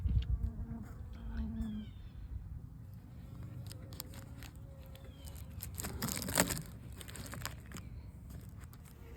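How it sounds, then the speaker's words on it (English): Honeybees buzzing inside a honeycomb-only hive colony where chunks of frame are being connected, a close, continuous droning hum with occasional crinkling and rustling handling sounds, no talking. "I've got more and more bees in here"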